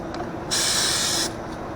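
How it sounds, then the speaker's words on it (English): Cooking spray sprayed inside a bag in a kitchen, one steady close hiss lasting under a second, with quiet room tone before and after. "I'm just going to spray the inside a little bit"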